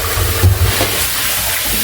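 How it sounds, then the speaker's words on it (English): Water poured into a pot of cassava while preparing abacha, a short splashing rush in the foreground with a brief louder gush near the start, no talking. "add some water"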